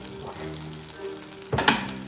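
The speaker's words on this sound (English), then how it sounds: "And I'm just going to saute these." Ramen noodles sauteing in butter in a pan make a soft, steady sizzle, then a louder scrape and stir near the end, with no talking.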